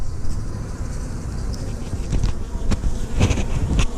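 Honey bees flying around the entrance of a hive, a steady dense buzzing drone close by with wind noise and a few louder passes as individual bees fly near.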